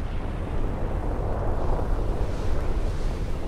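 Sound effect of the planet Theia colliding with Earth, a deep, continuous explosive roar that rumbles low and steady with a slight swell in the middle.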